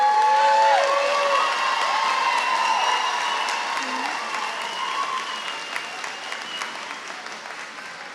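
An audience at a high school commencement claps steadily, with whoops and cheers over the applause, which slowly fades.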